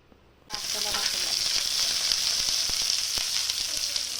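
Onion and green chili dropped into hot oil burst into a bright, loud sizzle after a brief quiet moment, then keep crackling steadily and close with small spattering pops.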